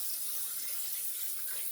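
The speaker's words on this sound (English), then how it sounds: "So we'll rinse the face here and see what we come up with at the end." Water runs from a tap in a constant, close hiss while a freshly shaved face is rinsed.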